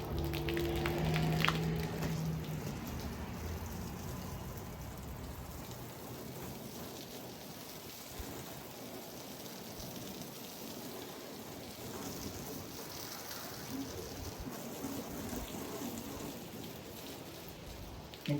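A garden hose sprays water steadily onto a Hiperlion camper during a leak test, producing a continuous rain-like hiss and patter that stays even throughout.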